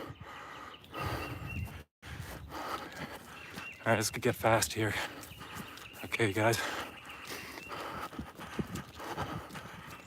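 Horse hooves clip-clopping on a downhill trail, mixed with heavy footsteps of a runner passing, while someone talks breathlessly close to the microphone outdoors.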